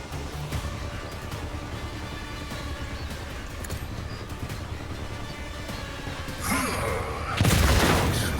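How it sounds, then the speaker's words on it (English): Grenade explosion in the turn-based video game Rogue Trader, a loud booming burst near the end that rises over a steady bed of game music and ambience. "I can only catch 2 of these guys in the grenade explosion because it's a weird little explosion."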